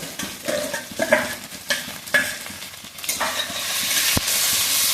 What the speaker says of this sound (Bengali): এর মধ্যেই দিয়ে দেবো আমি চিংড়ি মাছটা, তবে একসাথে ভালোভাবে ভেজে নেব।